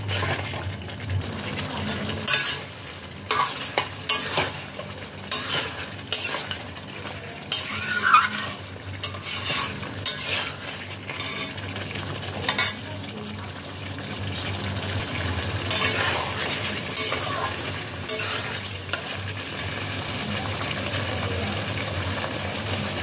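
Onions and slit green chillies fry in a pan while being stirred, giving a continuous sizzle broken by repeated scraping and clattering strokes of the spoon.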